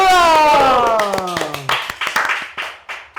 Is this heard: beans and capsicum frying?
no